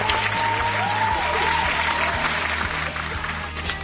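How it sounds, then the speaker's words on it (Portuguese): A room full of people at a podcast recording during a collectibles fair breaks into applause, steady clapping heard throughout under a low background hum. "Salva de palmas aí pra ele."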